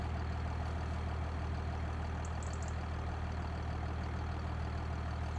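Idling tractor engine in a farming simulator game, an old used machine being test driven: a steady low rumble that holds evenly throughout, with no speech over it.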